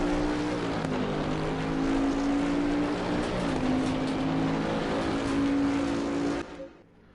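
A Bentley race car in Assetto Corsa Competizione, on the Zolder circuit, roars at full throttle with a steady, loud engine note rising in pitch through the gears, then cuts off abruptly near the end.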